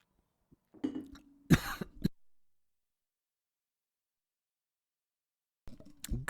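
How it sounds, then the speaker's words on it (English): A person coughs and clears their throat in a short close-up burst during a StarCraft 2 match commentary, then falls silent before a brief further throat sound at the end. "Bit of a coughing fit there"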